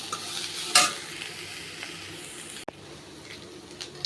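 Ingredients for aval kozhukattai sauté lightly in a pan, giving a soft, close sizzle with a sharp clatter near the start and a clink of the utensil midway, and no voices.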